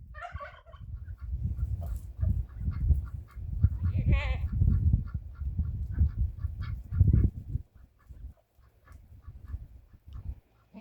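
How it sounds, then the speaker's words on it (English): A herd of farm goats bleats in a run of short, throaty calls at close range, with pauses between them and quieter rustling toward the end. "I also maintain a herd of goats."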